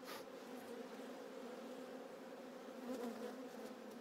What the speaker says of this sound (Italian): che belle api